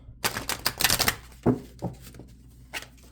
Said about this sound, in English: Do a little quick shuffle.